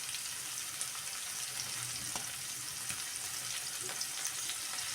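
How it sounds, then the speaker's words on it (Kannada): Urad dal frying with turmeric powder for coconut masala chitranna gives a steady, close, fairly quiet sizzle of hot oil that goes on without a break, with faint stirring scrapes and no voices. "ನೋಡಿ, ಇವಾಗ ಚೆನ್ನಾಗಿ ಫ್ರೈ ಆಗಿದೆ ಇದು."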